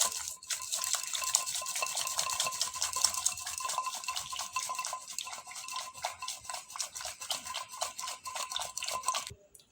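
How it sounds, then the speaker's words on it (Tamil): A spoon stirs lemon pickle in a container with a rapid, continuous scraping and tapping rhythm, close and fairly quiet, stopping abruptly near the end. "இந்த மாதிரி ஸ்பூன் வச்சு மிக்ஸ் பண்ணுங்கள்"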